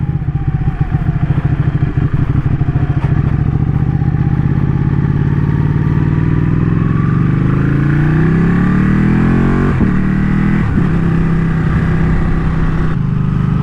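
Ducati Panigale motorcycle engine, close and loud, idling with a rapid pulsing beat and then revving up in rising sweeps, with sharp blips near the end.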